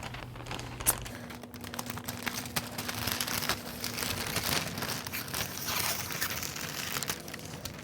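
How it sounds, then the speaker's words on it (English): Scissors cut and a sealed plastic humidity bag crinkles around a Sharp Aquos PN-L752B monitor during unboxing, giving close, steady rustling and crackling with small snips and no talk. "I suggest scissors and cutting it right below the melted seam."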